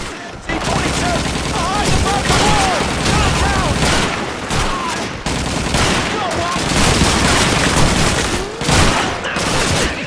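Rapid gunfire in a Call of Duty 2 World War II battle scene, with crackling shots and booms overlapping in a dense, continuous barrage across the whole clip and no clear single bolt-action shots standing apart.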